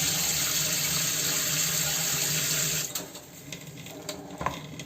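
Steady running water from a tap for a few seconds, then it cuts off, leaving quiet clinks and small splashes as water is sprinkled on an idli steamer plate.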